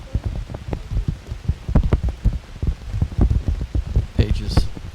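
Heavy rain pounding down on a disc golf course during a tournament round, dense irregular drops and splatters close to the microphone, with brief muffled voices in the background.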